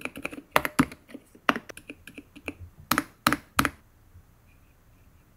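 Typing on an EPOMAKER TH80 Pro V2, a compact 75% gasket-mounted mechanical keyboard, produces close, crisp, irregular keystrokes in quick bursts that stop near the end, with no talking.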